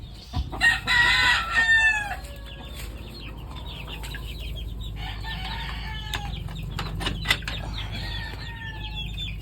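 A catch cock rooster crows in a backyard, giving loud, drawn-out calls near the start and again midway, with clucking, wing flaps and scattered knocks between them. No one speaks.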